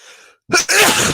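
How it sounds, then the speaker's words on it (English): One close, loud sneeze, starting with a faint breathy intake and then a sharp two-part burst. "that was a perfectly timed sneeze, quite frankly."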